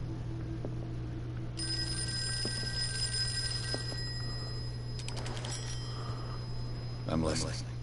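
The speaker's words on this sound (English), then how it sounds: "Oh, the phone's ringing." A telephone rings in the video game Call of Cthulhu on PlayStation, a steady electronic trill over a low background hum, followed by a few quieter knocks and a brief buzz.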